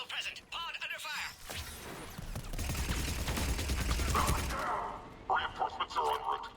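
Gunfire crackles through a Mass Effect 3 battle around a Krogan bomb pit, a dense rattling barrage mixed with crashes and thumps, with radio-style voices talking over it.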